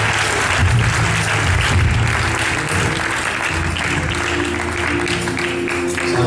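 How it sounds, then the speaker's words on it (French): A church congregation applauds Jesus in loud, sustained clapping that fills the room evenly for several seconds with no pause. "On acclame Jésus."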